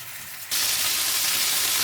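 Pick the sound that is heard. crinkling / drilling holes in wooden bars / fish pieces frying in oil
fish pieces frying in oil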